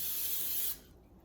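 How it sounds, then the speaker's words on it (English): A short burst of cooking spray onto a baking pan for a chicken pot pie made with canned biscuits, a close, bright hiss lasting under a second that then cuts off to quiet. "Spray our pan."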